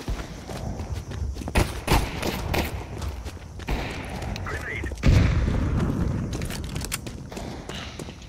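Grenade blast and scattered gunfire in a multiplayer shooter video game, a heavy boom near five seconds amid intermittent sharp shots, with people talking over the action.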